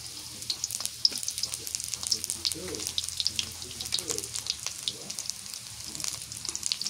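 Chopped onion frying in mustard oil in a pan, a light crackling sizzle with scattered pops and splatters, fairly faint and continuous with no voices.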